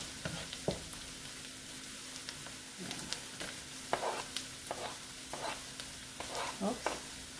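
Ginger and tomato fry in a pan for a cabbage-and-sardine dish, giving a steady close sizzle broken by scattered scrapes and taps of stirring, with no voices.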